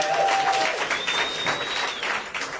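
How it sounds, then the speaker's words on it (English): Audience applause at a business book awards livestream, steady dense clapping from a full room lasting throughout, with a faint whistle-like tone riding over it. "please, huge round of applause for Brad"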